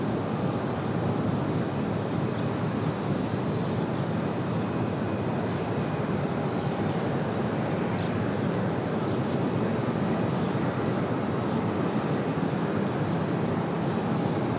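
A UPS Boeing 757 cargo jet departing Raleigh-Durham airport: a continuous, wind-buffeted jet roar that stays steady and fairly loud throughout, with no voices over it.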